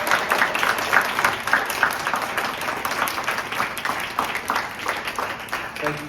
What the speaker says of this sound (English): Let's give a round of applause for the Democratic women of Macon County